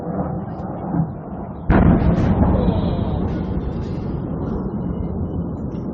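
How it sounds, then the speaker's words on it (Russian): A heavy explosion during the Arys disaster shakes a house: a sudden deep boom bursts out after low rumbling, then rolls into a long, loud rumbling tail, with faint voices nearby. "Еще один взрыв."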